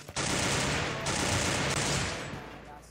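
Rapid gunfire in a mobile shooter played through BlueStacks, one loud sustained burst of close automatic fire lasting about two seconds before trailing off.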